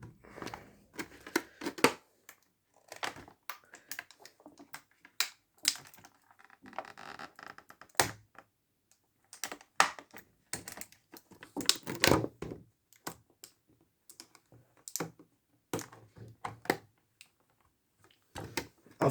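Strong adhesive tape is being pulled and peeled off the packaging of a Black Series Darth Maul figure, giving irregular sharp crackling rips and taps with short quiet pauses between bursts.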